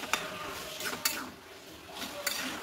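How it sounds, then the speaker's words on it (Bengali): Spoon stirring garam masala into a shrimp and fig curry in a pan, a few quiet scraping clinks against the metal at irregular intervals over a low background. "গরম মশলাটা দিয়ে ভালো করে মিশিয়ে নিতে হবে।"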